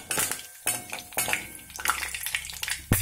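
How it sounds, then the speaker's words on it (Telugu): Whole spices for tempering drop into hot oil in a pan, giving short crackling bursts mixed with sharp clinks of a metal spoon against the cookware, close and fairly loud. "పోపు దినుసులు వేయాలి కదా,"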